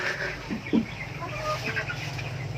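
Rhode Island Red chickens clucking in a breeding pen, a few low soft clucks over a steady farmyard hum, close and fairly quiet.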